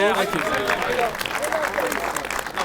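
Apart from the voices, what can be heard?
audience applause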